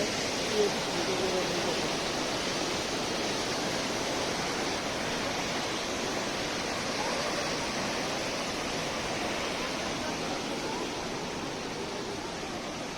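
Devil's Fall waterfall in Pokhara, Nepal, roars with a dense, unbroken rush of falling water that holds steady from start to finish, broad and enveloping with no voices.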